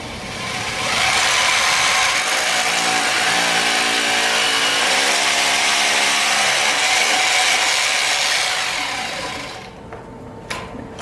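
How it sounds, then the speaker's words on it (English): A loud, steady electric drill whine runs for about nine seconds with a grinding, boring texture as it drills into a deck, then cuts off abruptly, leaving a few faint clicks. "Now when you drill, you want to make sure that you keep that drill as straight up and down"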